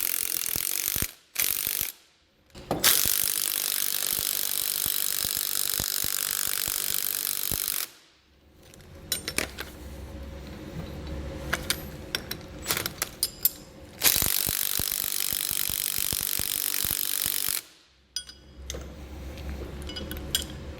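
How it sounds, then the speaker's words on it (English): A 19mm socket on a ratchet wrench turns a nut on a tow bar adapter bracket, with long stretches of rapid clicking ratchet pawl separated by brief pauses, close and loud, no talking. "I'm going to grab a 19mm socket and wrench."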